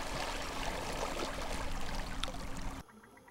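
Underwater at ebb tide in an estuary, the river current rushes fast toward the sea with a dense, steady broadband roar that cuts off abruptly near the end.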